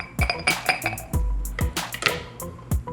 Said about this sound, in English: For this cocktail I will use a nice ice cube